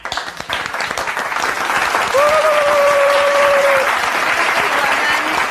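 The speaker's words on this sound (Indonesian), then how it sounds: "Ya, tepuk tangan dulu." A studio audience at an Indonesian talk show breaks into dense, steady applause that swells after a brief start and holds loud and close, with a faint voice briefly audible over it.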